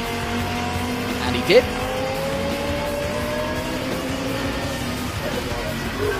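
Race cars at a GT Asia circuit race run steadily in the background, a continuous engine drone with a brief sharp squeal, under an excited commentator's voice.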